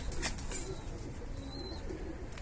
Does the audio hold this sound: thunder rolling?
no